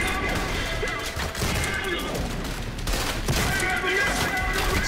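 Shotgun blasts in the video game Trepang 2 come as repeated heavy bursts over continuous game noise, close and loud, with a voice talking faintly in the mix.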